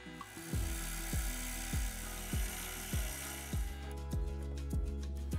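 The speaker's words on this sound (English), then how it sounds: "Now let's go drill the holes on the drill press." A drill press bores holes in wooden planter pieces, its motor whine sweeping down in repeated cycles as the bit plunges in and backs out, close and steady, about eight passes.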